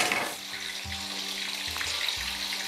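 Cassava (mogos) pieces frying in hot oil, giving a steady close hiss and crackle throughout, with a few low clunks as they are turned in the pan.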